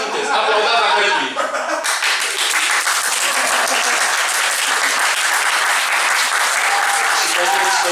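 A comedy-club audience at a stand-up show bursts into loud, continuous applause that runs unbroken and close, mixed with scattered voices and laughter.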